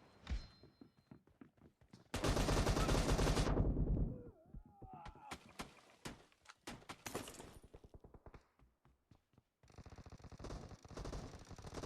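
Gunfire rings out in an online team shooter match, with rapid single shots, a long sustained automatic burst and a later stretch of continuous fire, mixed with sharp clicks and thunks, loud and close.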